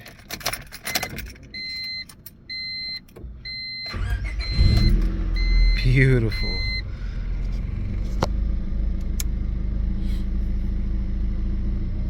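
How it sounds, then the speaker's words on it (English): A 1999 Honda Civic cranks on a new starter and catches, settling into a steady close idle after a few seconds of door chimes and key jingling; one person speaks briefly. "another thing I wanted to do is start the car so you guys can see the new starter in action"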